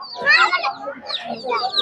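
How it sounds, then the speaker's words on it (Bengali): A native hen with about seven or eight chicks at the weekly Fatullah poultry market gives repeated high, thin peeping and clucking calls, close and fairly loud, over a low background murmur. "এখানে প্রায় 7-8টা বাচ্চা সহ একটি দেশি মুরগি আছে।"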